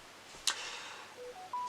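A mobile phone goes off faintly in a quiet room, first with a brief sharp click, then a rising sequence of three short clean electronic tones.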